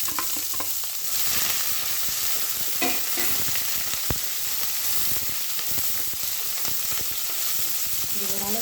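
Chopped onion and garlic fry and sizzle in a pan, a steady crackling hiss with occasional stirring scrapes, close and continuous with no talking.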